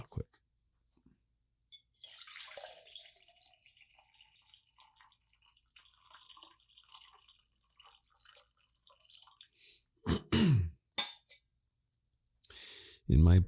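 Decaf coffee poured from a French press, a soft trickling splash of liquid into a cup at moderate volume, followed by a few louder clinks and bumps as the press and cup are handled.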